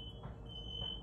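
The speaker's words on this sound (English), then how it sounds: "You hear them alarms going off?" An alarm sounds alone as a steady, shrill electronic tone like a smoke detector, holding continuously at a faint level with soft background hum beneath it.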